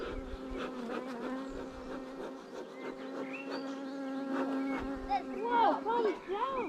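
Honey bees buzzing around an open beehive during an inspection, with a dense, fairly quiet hum and individual bees droning close by, rising and falling in pitch as they pass.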